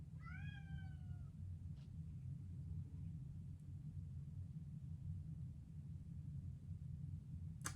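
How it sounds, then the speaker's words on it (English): A domestic cat meows once near the start, a short rising cry over a steady low rumble of room noise, then quiet for the rest. "Sorry, I can't let my cat in here because she'll climb all over everything and I won't be able to concentrate."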